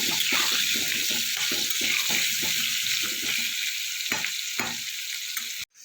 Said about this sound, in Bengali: সামান্য একটু হলুদ আর একটু কাশ্মীরি লঙ্কা গুঁড়ো দিয়ে আলুটাকে ভালো করে লাল করে আমি ভেজে নেব।